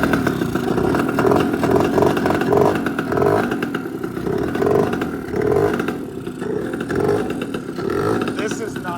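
A Tao Tao 110 motorcycle engine runs with the choke on, a rough, pulsing idle with clattery mechanical texture that swells and eases in a repeating rhythm, close to the recorder, with a voice over it.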